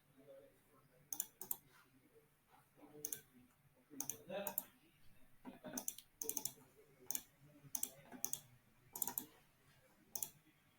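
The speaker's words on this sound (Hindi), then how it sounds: "ये देखिए हमने इस पे क्लिक किया" A computer mouse clicks repeatedly while someone works in SmartPLS data-analysis software, with quick, crisp single and double clicks scattered across the stretch under quiet speech.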